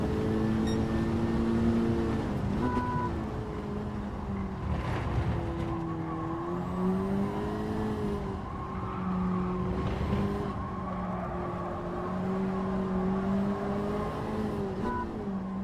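Race car engines and squealing tyres in a Gr4 racing video game on a windy track, a steady droning engine note rising and falling with gear changes, with tyre skids, continuous and fairly loud throughout.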